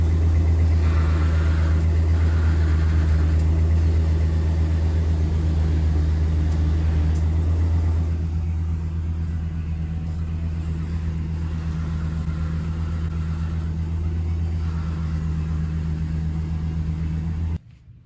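A Ford truck with a Dana 60 axle and hydraulic assist steering drives along, its engine humming low and constant, then easing a little softer partway through, with no speech over it.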